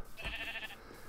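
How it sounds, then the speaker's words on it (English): A sheep bleats once, a short wavering call in the middle distance over a steady low background hum, with no speech. "And some noisy sheep."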